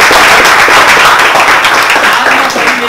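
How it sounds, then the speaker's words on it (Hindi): Loud, close clapping from a group of students honouring their teacher, a dense and sharp burst of hand claps sustained evenly over the whole stretch. "उनके लिए एक बार तालियां हो जाए"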